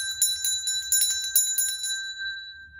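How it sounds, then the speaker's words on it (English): A small bell rings repeatedly in quick, bright strikes that leave a clear sustained tone fading out over a couple of seconds, near and alone with no voices. "Sometimes I ring a bell."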